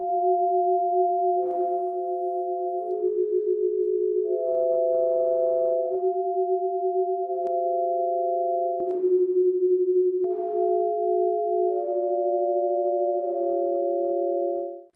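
Steady electronic tones hold for a second or two each, then shift to new pitches, forming a slow sequence of synthetic notes translating a face's colours into sound, with no voices.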